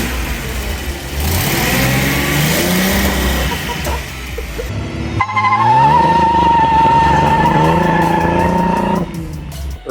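Datsun 240Z engine running just after carburetor tuning, a loud steady mechanical drone that rises in pitch like a rev partway through and then holds high, close to the microphone, with no one talking.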